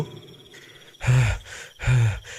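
A cartoon character pants heavily, two loud breathy gasps about a second apart after a quieter breath, close up and with no words.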